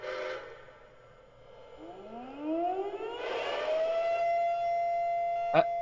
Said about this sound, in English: Why is it air raid siren?